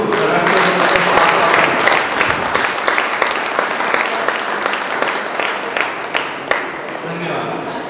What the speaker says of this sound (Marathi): आपण सर्वांनी जोरदार टाळ्या वाजवून